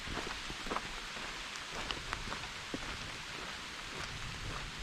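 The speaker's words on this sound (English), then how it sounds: "we're getting lucky with that rain because it sounds worse than it is" Steady rain patters on a mountain hiking trail at Stone Mountain, a soft, even hiss broken by scattered close drips, with no voices.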